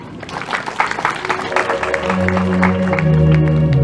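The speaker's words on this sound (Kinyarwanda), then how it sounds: "nabo mubaha amashyi mubashimire." Audience applause at a church harvest celebration, scattered claps building into steady clapping, with sustained tones, probably music, rising underneath in the second half.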